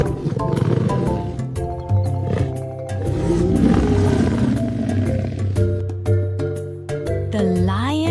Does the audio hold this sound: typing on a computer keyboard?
no